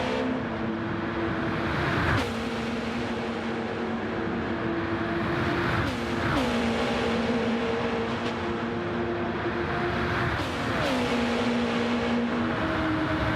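Race cars in a sim racing game brake into La Source and climb up through Raidillon and Eau Rouge at Spa, with engines whining through repeated gear shifts and rising revs, several cars close together, loud and without talk.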